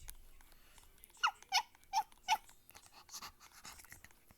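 A human voice imitates a puppy with four short high squeaky yelps in a quick row, followed by softer breathy whimpers, close and fairly quiet.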